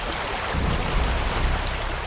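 A waterfall roars steadily at a scenic spot, a dense broadband rush of falling water with low rumble that stays constant and close.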